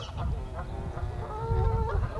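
Geese on the muddy Severn estuary foreshore in a watery park honk repeatedly in several overlapping calls, fairly close, over a low outdoor rumble.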